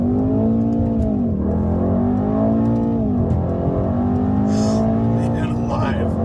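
Mercedes-AMG E63 S wagon engine pulling hard in Sport Plus with manual shifting during a highway merge, a loud steady roar with rising pitch sweeps and shift dips, heard from inside the car.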